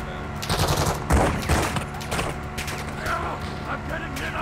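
Gunfire crackles in a Call of Duty DMZ match, with several bursts of rapid automatic shots at a moderate distance over a constant background din, while players talk.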